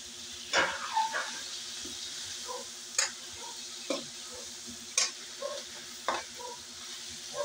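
Chicken adobo with onion, garlic and ginger being stirred in a pan, a steady sizzle broken by sharp spoon scrapes and clacks every second or so, close and without talk.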